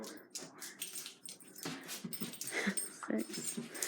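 A dog whimpering and whining indoors during an exercise session, several faint high whines and yips in irregular bursts, quiet and close, with soft rustling and a little background talk.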